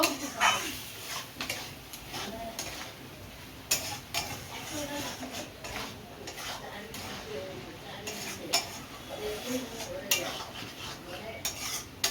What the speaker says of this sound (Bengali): এবার একটু করে ভালো কষিয়ে নেব।